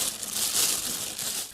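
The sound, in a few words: shuffling noise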